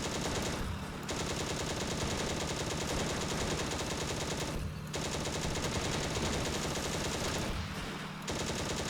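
Sustained machine gun fire aimed at tank crews in the Steel Fury tank combat game, long rapid bursts broken by two brief pauses, loud and steady with no talking.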